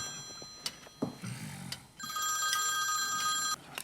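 A telephone rings indoors, its bright electronic tones repeating in a steady pattern after a few soft knocks and rustles, moderately loud and close.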